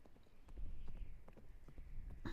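Horse hooves clip-clop in a steady, uneven rhythm on a windy outdoor trail, moderately close, with soft background rumble.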